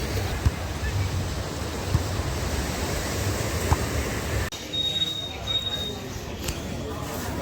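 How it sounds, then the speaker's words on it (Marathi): Sea waves wash onto a beach in Goa, a broad steady roar with wind buffeting the microphone throughout. A few faint knocks stand out, and the rush continues after a brief cut. "परत आलेलो आहे समुद्र किनारी गोव्याच्या."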